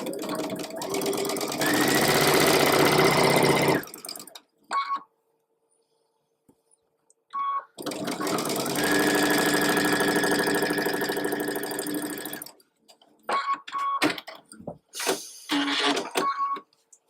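A sewing machine stitches quilt block rows together in two long steady runs, with short taps and quiet gaps between them, heard close and with no talking.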